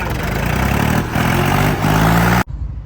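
A heavy 855 tractor engine chugs steadily at idle, close and loud, then cuts off abruptly, leaving faint background rumble.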